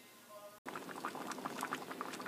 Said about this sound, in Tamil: ஓகே, இது நல்லா பாயில் ஆகிட்டுருக்கு.